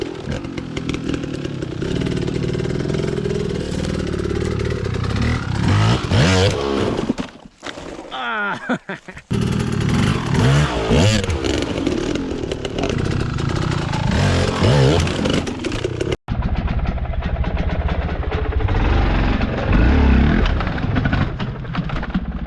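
Dirt bike engine revving hard in short throttle blips while hopping logs, loud and close, with a brief drop-out midway and a sharp cut near the end before the motor keeps running.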